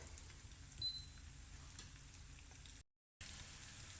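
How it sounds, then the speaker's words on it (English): A vada pav patty coated in breadcrumbs fries gently in a pan with a soft, steady sizzle. The sizzle is faint and unbroken, with a brief dropout partway through, and no one talks. "And here's where it starts gently frying."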